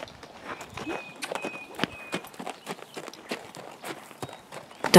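Irish Cob horse working over ground obstacles, its hooves giving a steady run of sharp, fairly close footfalls with no voices over them.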